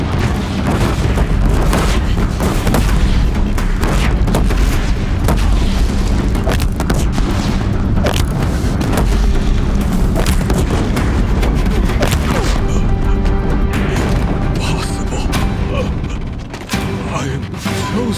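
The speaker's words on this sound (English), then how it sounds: "If the Deathbringers keep firing, this bridge will go." Deathbringer war machines in Horizon Zero Dawn fire on a bridge, a dense, continuous barrage of loud booming blasts and mechanical clatter, with occasional speech among the rumble throughout.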